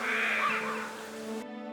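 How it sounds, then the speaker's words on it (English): A flock of crows caws at sunset, harsh calls blending into a dense, steady wash that fades to quieter tones near the end. "he noticed a massive flock of crows gathering in the distance."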